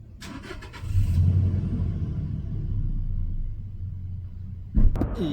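A car engine rumbles close by in a city square at night, settling into a steady idle after a brief rise, with a sharper bump near the end.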